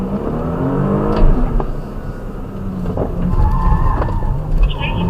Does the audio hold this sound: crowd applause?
no